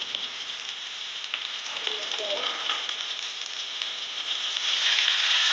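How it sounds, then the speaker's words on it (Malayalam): Crushed spices and aromatics sizzle steadily in a hot oiled pan while cooking a seer fish biryani, a continuous close hiss that grows slightly louder toward the end, with faint talk beneath. "ഇങ്ങനെ ജസ്റ്റ് ഒന്ന് ഫ്രൈ ആയാൽ മതി."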